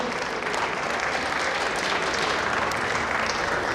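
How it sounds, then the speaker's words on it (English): An audience claps steadily for former teachers at a school's centenary celebration, a dense, continuous wash of applause at even loudness with no pauses. "I will request the current teachers also to please join us in the clapping."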